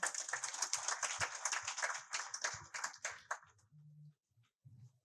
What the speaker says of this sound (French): Monsieur Hassan Boub, que je vous invite encore à applaudir, s'il vous plaît.